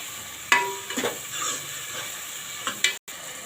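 Onion and tomato fry for dal palak, a soft steady sizzle broken by a few sharp clinks and scrapes of a spoon stirring against the pan, close up and without talk.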